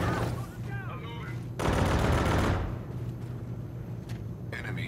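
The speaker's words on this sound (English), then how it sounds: "Enemy fire!" Bursts of automatic enemy gunfire in an online shooter video game, loud rattling volleys with a heavy central barrage, mixed with game effects and a voice calling out.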